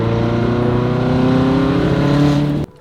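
A Subaru WRX STI engine held at a steady, loud rev on a warm start to keep it from dying, a droning harmonic hum close by that stops abruptly near the end.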